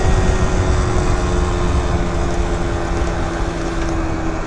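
A 70cc Yamaha Zuma scooter engine runs with a steady, loud, rough drone, close by, as it struggles to idle, with no talk.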